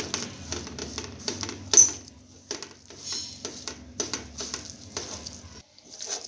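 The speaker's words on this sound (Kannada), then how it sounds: "ಇದನ್ನೆಲ್ಲ ಚೆನ್ನಾಗಿ ಮಿಕ್ಸ್ ಮಾಡ್ಕೊಳ್ಬೇಕು." Thick masala paste of turmeric, lemon juice and soy sauce being mixed for chicken tandoori fry, with no water added, giving close, soft wet squelching and scraping in an irregular rhythm, without talk.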